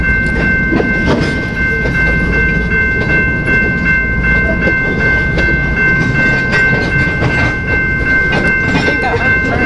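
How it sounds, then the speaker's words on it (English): A train rumbles past continuously at close range in Slaton, Texas, with heavy rolling noise and clattering wheels, plus a steady high whine throughout. "I think I heard a train."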